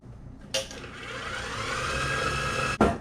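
An electric hand mixer whirs steadily as it creams butter and sugar together in a bowl, a continuous motor hum with a sharp bump near the start and another just before the end as the beaters knock the bowl.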